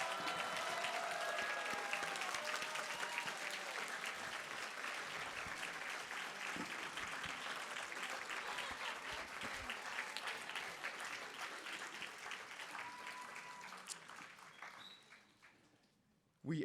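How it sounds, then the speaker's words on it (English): Long, full applause from an audience at a medical school white coat ceremony, with scattered whoops and cheers, sustained for over fifteen seconds before tapering off to near silence at the end. "join me in a hearty round of applause congratulating our classes of 2024 and 2025"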